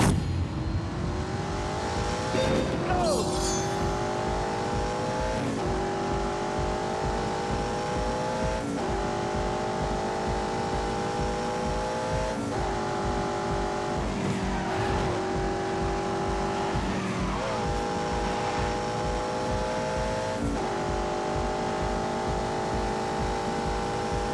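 A V8-engined car accelerating hard in The Grand Tour Game, its close, loud engine note climbing repeatedly and dropping with each gear change, roughly every few seconds, over a continuous road roar.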